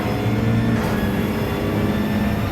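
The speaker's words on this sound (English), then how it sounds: "as we hear the turbo of the BMW coming through" BMW touring car in a racing video game, a sustained mechanical engine and turbo drone with tonal whine, loud and steady, heard alone without commentary.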